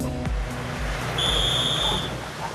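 On a driver-training circuit in Montchanin, an instructor gives a single sharp, high whistle blast lasting under a second as a signal for emergency braking, heard over outdoor background noise.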